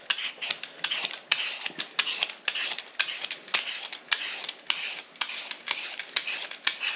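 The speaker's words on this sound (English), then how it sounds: "I'm just going to peel my potatoes." Potatoes peeled by hand with a peeler, a steady run of short scraping strokes repeating about twice a second, close and fairly crisp, with no talking.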